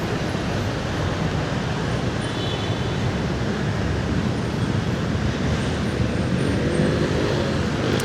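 Busy street traffic near a market in Manila rumbles as a dense, continuous wash of engines and road noise, loud and unbroken.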